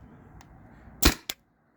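A Tippmann TPX paintball pistol running on a remote line from a 20 oz CO2 tank fires a 3.6 gram nylon ball through a chronograph, one sharp pop followed a moment later by a smaller crack.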